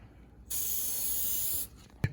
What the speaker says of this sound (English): I like to use this, just anything to keep the pads in that from squeaking a little. Spray that on both sides.